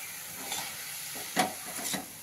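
Chopped jackfruit sizzles in a hot pan as a spoon stirs it, with a soft steady fry and a few sharper scraping strokes, close and moderately quiet.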